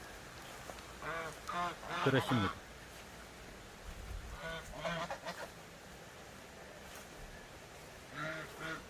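Geese kept in a rural cafe yard honk in short clustered bursts, some loud and close, others softer, while a person speaks quietly nearby.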